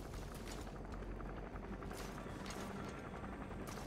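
Helicopter in the Metal Gear Solid 5 video game, a dense loud continuous rotor roar with rhythmic chopping pulses throughout, no talk.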